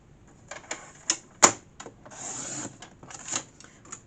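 Paper being cut for a handmade gift album: crisp close clicks and taps, then a sustained sliding rasp as the cut runs through, with a few more short scrapes after, no talking.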